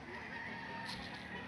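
Chickens clucking and crowing, a faint rooster-like call briefly rising over a steady low background hum, with no talk.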